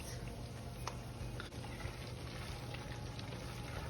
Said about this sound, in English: we'll allow this to fry for just a few minutes